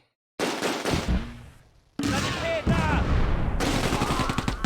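Mortar and small-arms fire in the wartime strategy video game Close Combat: A Bridge Too Far, a dense, loud rattle of rapid shots and thuds with brief gaps, a voice faintly mixed in.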